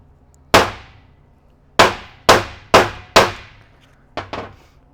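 Six sharp metallic hammer blows ring out close and loud as a bolt is driven through a spacer in a shop, struck at uneven intervals, the last two lighter and quick together.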